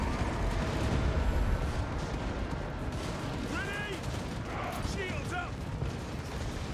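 Troops firing at knights in a Total War Warhammer 2 battle, with dense overlapping gunfire and booming shots rolling continuously at mid-distance, plus a few brief higher cries over the din.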